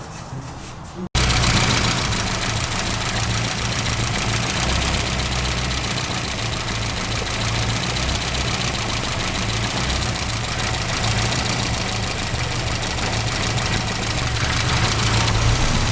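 A Classic Mini 1071 S engine idles steadily during carburettor balancing, a loud, close, continuous rumble with a fast, even pulse that kicks in abruptly after a quiet first second and holds throughout.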